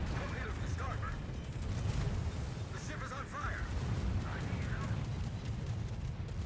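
The KMS Odin's secondary guns fire in World of Warships as a dense, continuous rumble of rapid distant gunfire and booms, playing steadily beneath someone talking.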